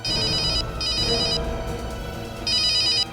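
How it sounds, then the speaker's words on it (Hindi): A telephone bell rings in repeated bursts, a bright trilling electronic ring separated by short pauses, with a low rumble underneath. "घंटी बज रही है।"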